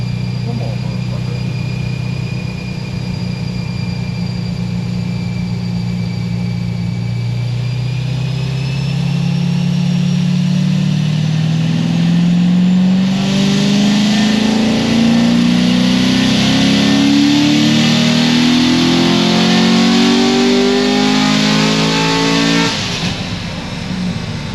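A dropped-valve LS7 V8 runs on a dyno, its note rising steadily in one long, loud pull to high revs before cutting off sharply, with faint talk near the start.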